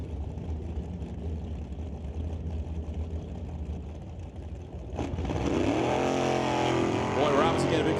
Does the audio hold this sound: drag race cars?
yes